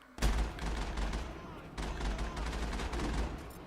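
Burst-fire gunfire in the video game Mass Effect, rapid clusters of shots in a dense fusillade opening abruptly and continuing loudly in repeated bursts with a short lull midway.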